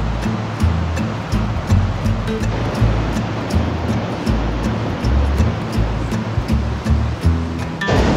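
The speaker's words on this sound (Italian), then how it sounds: "Il fiume rumoreggia per bene, eh?" Roaring river near Tabasca Falls, a steady loud rush of water filling the scene, close and continuous with slight surges, no voices.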